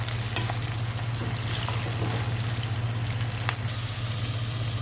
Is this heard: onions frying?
yes